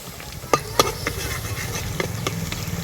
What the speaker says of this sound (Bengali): আর এইভাবে এই হালকা হালকা করে গরম তেলটা দিতে থাকবো।